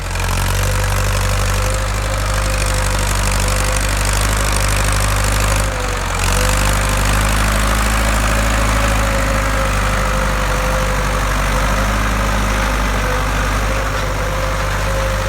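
A Ford 6600 tractor engine pulls a seven-disc plough through a field, a loud, dense and steady diesel drone close up with one brief dip in the middle and no voices.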